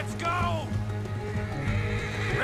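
A horse in Red Dead Redemption 2 gives a loud whinny that rises and falls, over steady low game music, rumble and faint hoof noise, with no clear talking.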